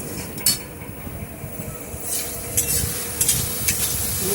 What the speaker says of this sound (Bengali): আমি চার পাঁচটা চেরা কাঁচা লঙ্কা আমি এর মধ্যে দিয়ে দিলাম